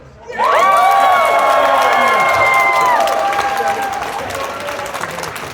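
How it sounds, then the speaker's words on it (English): A convention panel audience at Kawacon 2025 bursts into loud applause and cheering, with whoops and shouting children rising together, peaking early and then thinning slowly while clapping continues. "How about a round of applause for Kirk Thornton"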